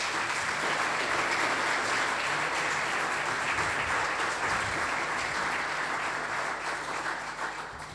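An audience claps for four panelists at a robotics event, a dense, even round of applause that holds steady and then tapers slightly at the end, with no talking over it.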